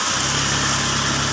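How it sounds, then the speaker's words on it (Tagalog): A big motorcycle engine runs steadily through flood water, with a continuous loud buzzing drone and no pauses. "iba talaga pag malaki ang motor. Malaki ang motor, baliwala ang baha"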